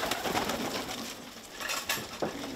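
A wood pigeon coos softly in a rural hunting area in the Gers, France, a few faint, muffled calls set against a steady, hissy outdoor background.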